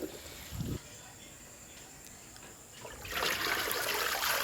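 Water splashes while raisins are washed: a brief splash near the start, a quiet lull, then a louder, steadier stream of pouring and trickling water close by.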